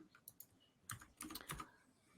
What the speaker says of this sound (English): I'm sorry, but I'm typing right now.